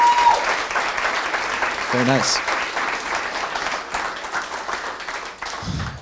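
An audience at a tech meetup talk applauds warmly, a sustained patter of clapping at close range that slowly thins out, with a brief spoken remark over it.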